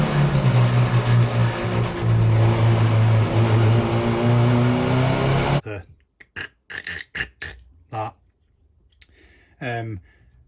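A Subaru Impreza with a six-speed gearbox and a shredded third gear, its engine droning loud and steady, then cut off and followed by clipped mechanical knocks and grinding bursts, with a voice talking.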